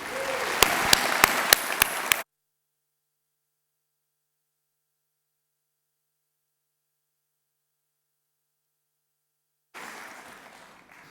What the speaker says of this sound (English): one more round of applause for Mr. Maisch.